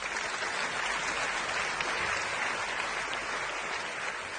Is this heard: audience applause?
yes